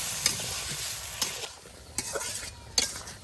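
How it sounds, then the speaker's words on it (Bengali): Spice masala with salt being fried in a pan gives a steady close sizzle broken by several sharp spatula scrapes and taps against the pan, moderately loud with no voices. "মশলা একটু ভালোভাবে কষে নেই"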